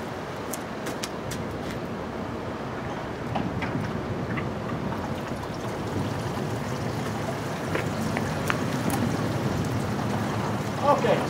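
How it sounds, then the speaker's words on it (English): Steady rushing, splashing water with a low continuous hum, fairly close and constant, from an evaporative cooler's water pump circulating water, with faint clicks on top. "Right on cue, enough water filled up, the pump turned back on."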